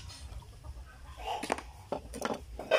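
A chicken clucking outdoors in a yard, several short clucks and squawks in the later part over low background noise and faint distant voices.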